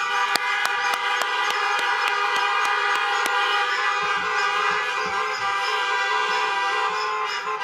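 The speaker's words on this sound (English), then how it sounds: "May I ask you to join me in a round of horn honking" Car horns honking together in celebration at an outdoor Mount Royal University convocation, a steady sustained blare of overlapping tones with rhythmic toots at first, continuing loudly without speech.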